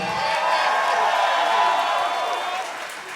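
A concert crowd at Sony Hall in NYC claps and cheers after a live big band number, a steady roar of applause and whoops under a host's amplified voice announcing the trombonist, fading near the end.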